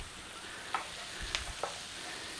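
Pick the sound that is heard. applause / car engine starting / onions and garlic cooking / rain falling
onions and garlic cooking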